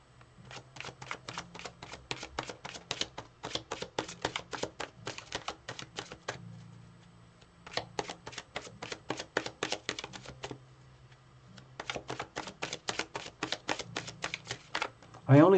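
Cards are riffle-shuffled again and again, each shuffle a quick rapid burst of flutters with short pauses between bursts, close and fairly quiet.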